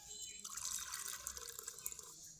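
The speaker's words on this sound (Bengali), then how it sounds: "আজকে আমি আমার গাছগুলোতে জল দিয়ে দেব" Water poured from a container onto potted garden plants, a steady splashing hiss that runs for a couple of seconds, close and moderately loud.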